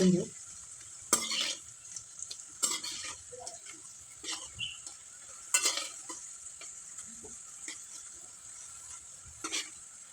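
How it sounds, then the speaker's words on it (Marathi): Chapati pieces frying in a pan, a low constant sizzle broken by intermittent clinks and scrapes of a spatula stirring, close and fairly quiet, no talk. "दोन्ही बाजूने पण चांगले फ्राय करून घेऊ"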